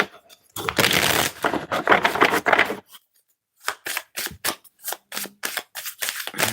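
Playing cards shuffled by hand in several quick bursts: a long riffling stretch followed by a series of short, sharp snaps and flicks, close and fairly loud with no talk.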